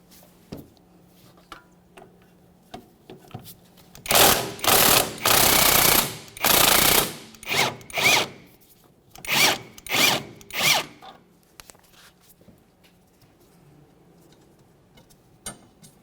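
A power tool spins out the lower control arm mounting bolt on a 1994-1997 Honda Accord, with loud bursts of whirring separated by pauses and light clicks in a quiet garage.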